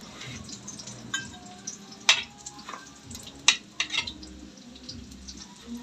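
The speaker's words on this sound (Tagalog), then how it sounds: "ganun siya kahirap pag nagprito ng talong kasi ang talong bumabawi, tumatasik yung mantika" Eggplant slices fry in hot oil with a continuous sizzle, broken by several sharp pops and spits of splattering oil, close and fairly loud with no talking.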